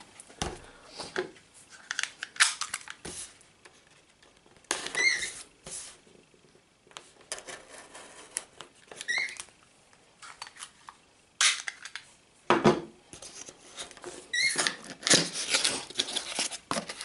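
Arlo Pro security camera packaging being opened by hand, with intermittent close rustles, scrapes and crinkles of box and wrapping in short bursts, separated by quiet gaps.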